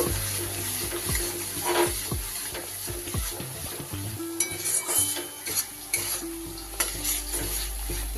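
Poppy seed and mustard paste being stirred into spiced oil in a pan, a spatula scraping and knocking repeatedly against the metal over a constant close sizzle, no voices.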